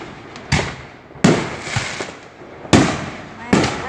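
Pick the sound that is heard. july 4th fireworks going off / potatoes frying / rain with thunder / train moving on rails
july 4th fireworks going off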